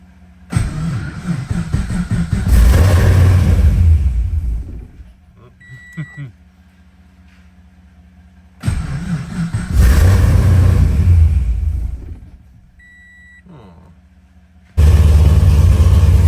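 An LS3 V8 engine in a drift car cranks and catches three times, roaring loudly for a few seconds each time before sputtering out into quiet.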